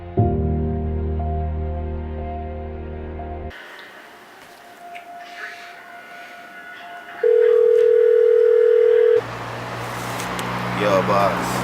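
A steady, loud telephone dial tone holds for about two seconds partway through a phone call in a Jamaican drama, with voices and background noise before and after it.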